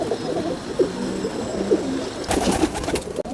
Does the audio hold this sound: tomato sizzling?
no